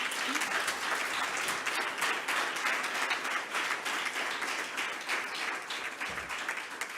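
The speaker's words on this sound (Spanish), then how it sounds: "le vamos a dar un fuerte aplauso" Audience at a poetry event applauding actress Anabel Alonso with sustained, even clapping from a crowd, heard at a moderate distance and continuing without a break.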